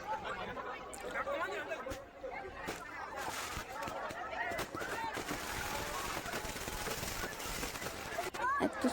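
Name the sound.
fireworks bursting over the Ganges river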